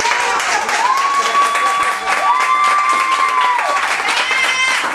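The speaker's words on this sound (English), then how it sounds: "Why y'all ain't clap for me, man?" A crowd at a spoken-word poetry performance claps and cheers continuously, and a long whistle rises above the applause partway through before the clapping carries on.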